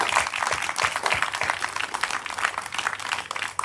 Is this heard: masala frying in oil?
no